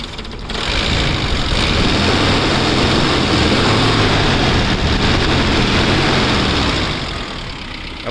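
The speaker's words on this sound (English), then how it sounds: "The engine sound is totally a well maintained engine, perfect running condition engine" A 2008 ex-army Maruti Gypsy King 4x4 engine runs close up with a loud, steady rumble, holding an even idle throughout before easing off slightly near the end.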